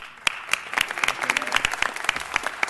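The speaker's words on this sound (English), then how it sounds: "So I want to give them a big round of applause for that." Brief round of applause at a city council meeting, a scattering of distinct claps from a modest group of people in a chamber, fairly faint and irregular, with no talking over it.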